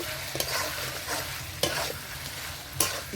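Okra frying with onions in a pan is stirred, giving a steady sizzling hiss broken by several sharp scraping strokes of the spoon against the pan at irregular intervals.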